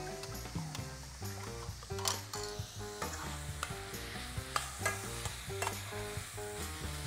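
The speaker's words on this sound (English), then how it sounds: "we just want to mix that tomato paste with the stock." Lamb stew ingredients of tomato paste, stock, meat and vegetables being stirred in a pot, a steady scraping and sloshing that runs throughout beneath continuous background music.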